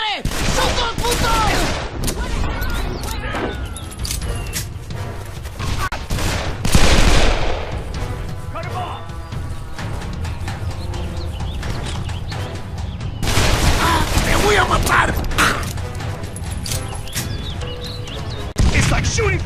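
Sustained gunfire fills a firefight in Call of Juarez: The Cartel, with dense automatic bursts and loud booms, mixed with game music and shouting voices throughout.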